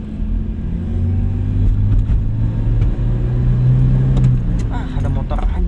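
A 2003 Suzuki Escudo with a 1.6-litre engine pulls away from about 30 on a road, its low steady engine drone building gently under light cabin rattles, heard from inside the car without talking.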